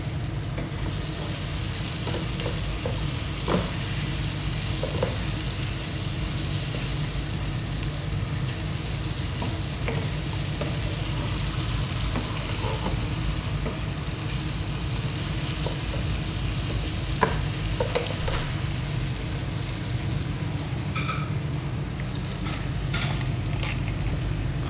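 Chicken sautés in a pan for chicken salona, giving a steady, close sizzle and frying hiss throughout with occasional small pops and stirring clicks, with no talk over it.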